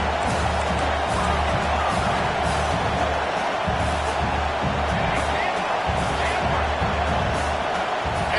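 A dense football stadium crowd roars continuously on fourth down at a Georgia Tech vs Duke game, loud and sustained throughout with no breaks.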